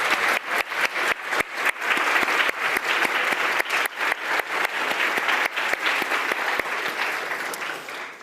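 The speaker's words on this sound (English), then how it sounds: "So one big round of applause for" An audience at a game programming lab final presentation breaks into sustained applause, dense clapping with a few sharp individual claps standing out, steady and loud before tapering slightly at the end.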